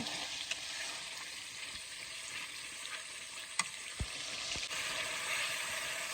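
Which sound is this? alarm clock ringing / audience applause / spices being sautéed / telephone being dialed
spices being sautéed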